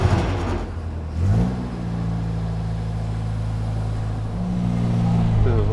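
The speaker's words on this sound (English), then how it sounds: "Listen to that little engine." An Austin Healey Sprite's small engine cranks briefly, then catches and settles into a steady, buzzy idle that swells slightly toward the end, recorded up close.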